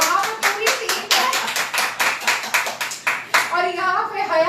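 A small group claps steadily in a studio show setting, with rhythmic, close, bright hand claps continuing for several seconds before tapering into softer scattered claps.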